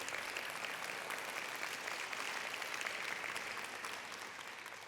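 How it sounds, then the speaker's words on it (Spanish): Church congregation applauding during prayer, a steady, fairly distant wash of sustained clapping that tapers slightly toward the end. "Si le va a aplaudir al Señor, dele duro."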